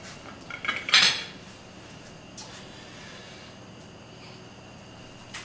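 A serving plate and cutlery handled in a kitchen before searing organic tuna: a brief cluster of close clinks and clatter, then quiet room tone with a faint knock.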